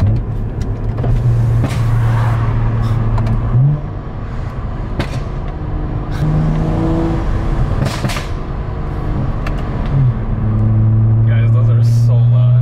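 A BMW with an MHD tune drives along with its exhaust burbling, a loud droning engine note broken by scattered sharp pops and crackles, while someone talks over it.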